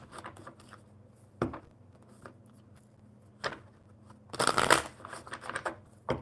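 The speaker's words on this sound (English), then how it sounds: "Whoops, that's not a good shuffle." Deck of playing cards being shuffled, with short crisp riffles and snaps at scattered moments and one longer, louder flurry of riffling near the end, heard close and alone without talk.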